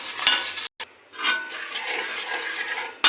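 A popcorn and sugar mixture is stirred in a pan to cool it, with close, soft scraping and rustling strokes broken by a brief pause and a sharp clink near the end.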